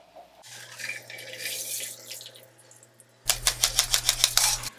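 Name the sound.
pouring Bee's Knees cocktail into a coupe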